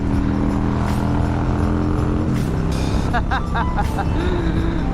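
A carbureted 1999 motorcycle on the road heading toward the highway, its engine droning steadily up close with rising and falling tones and surrounding traffic noise, without clear talk.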